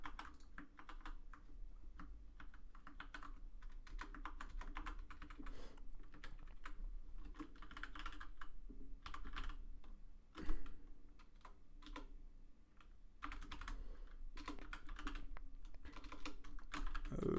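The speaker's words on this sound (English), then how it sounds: "I guess I gotta get my typing speed up." Quiet computer keyboard typing while writing JavaScript code: irregular bursts of soft key clicks run throughout, with brief pauses and one sharper thump midway, close and alone with no talking.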